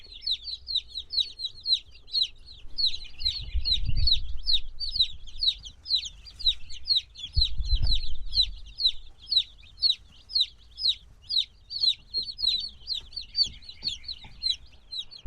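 Baby chicks on a farm peep and cheep in a steady, rapid chorus under a heat lamp, a continuous high-pitched chatter, with a couple of low rumbling thumps partway through.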